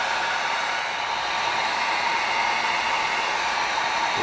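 A heat gun blows steadily at close range while heat sealing raw EVA foam, a constant loud hissing whoosh of air that holds evenly throughout with no talking.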